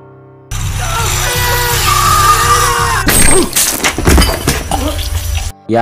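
A hammer strikes a man during a home invasion: a droning cutting machine stops at a sudden crashing impact, followed by clattering, thuds and pained screams and groans.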